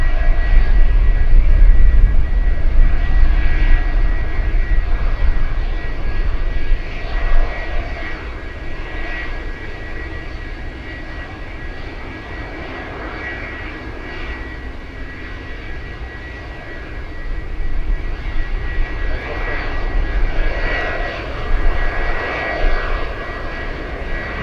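An aircraft arriving on runway 15 at Anchorage airport in gusty wind: a jet engine roar, loudest at first, easing in the middle and swelling again, with no talk over it.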